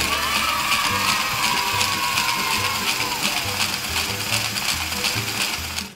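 Small gears of a toy Lego crushing machine whirring with rapid, regular ratcheting clicks, a steady mechanical grind that runs evenly for several seconds before cutting off abruptly.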